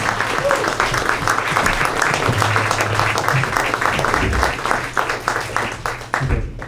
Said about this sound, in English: Applause for Clarence.